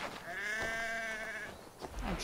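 One long, quavering sheep bleat sounds close and clear in Assassin's Creed Valhalla, trailing off and followed by a few soft thuds of movement.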